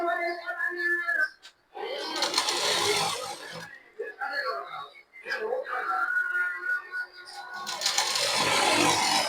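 A sewing machine stitches invisible piping on the back of a blouse, running in bursts of steady mechanical whirring, with a person talking over it throughout.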